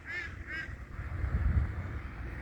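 Duck on a pond giving two quick nasal quacks near the start, moderately close, followed by low rumbling background noise.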